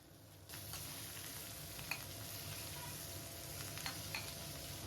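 Onions frying in a pan with green chillies and curry leaves, with a steady soft sizzle that starts abruptly and carries a few light stirring taps, fairly quiet and close, with no voice.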